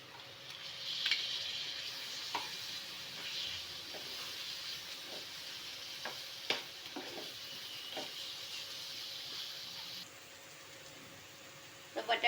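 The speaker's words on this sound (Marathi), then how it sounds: "तर बटाटा घालून मी चांगला परतून घेतलाय।" Potatoes sauté in a pan of masala with a steady close sizzle throughout, broken by occasional scrapes and clinks of stirring.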